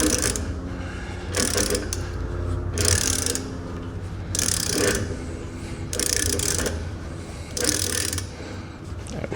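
Socket wrench ratcheting while tightening the level probe on a coffee machine during descaling, repeated bursts of close clicking strokes in a steady rhythm, about six short runs with brief pauses between.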